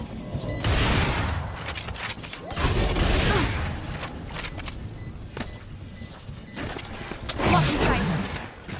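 A swarm grenade detonates in a competitive shooter match, with several clustered bursts of rattling, popping blasts spread across the moment amid busy game effects.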